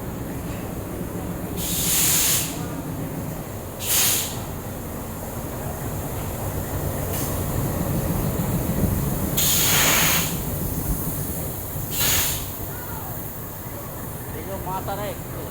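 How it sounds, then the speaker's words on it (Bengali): The Maa Tara Express rolling into a station, a low rumble of wheels with repeated bursts of hissing air from the train, while people talk nearby. "দেখতে পাচ্ছ ট্রেনটা ঢুকছে কেন।"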